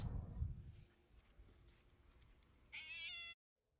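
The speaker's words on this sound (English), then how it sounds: "Cat." A cat meows in a quiet room, a short clear high-pitched cry near the end after a low rumbling handling noise.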